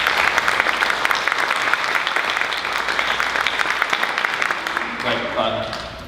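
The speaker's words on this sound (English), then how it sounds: "Let's give Matthew a round of applause." Steady applause from a town hall audience at Odessa College fills the whole clip, dense and even, tapering off slightly at the end.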